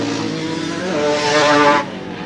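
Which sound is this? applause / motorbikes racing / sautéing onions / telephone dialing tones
motorbikes racing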